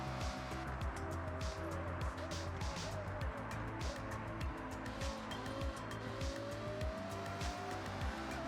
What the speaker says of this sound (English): Dang, this car sounds so good.